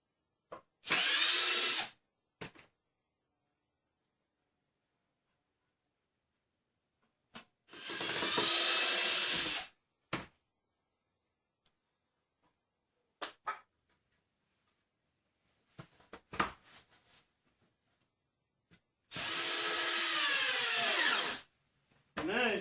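A power drill drives big screws with heads easier to drive than Phillips into wood, in three loud, close bursts of steady whirring, separated by silences with a few scattered knocks and handling clicks.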